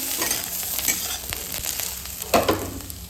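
Bitter jhima greens cooking as ghonto in a pan are stirred and scraped, with a soft sizzle under repeated spatula strokes and one louder clatter near the end, close and clear without talk.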